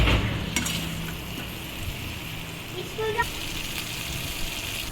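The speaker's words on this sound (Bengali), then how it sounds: "এবার আমি কষে রাখা আলুগুলো দিয়ে দিলাম" Fried potatoes drop into sizzling spice masala in a pan for a fish curry, with a clattering burst at the start followed by a steady, close frying sizzle and a few faint scrapes.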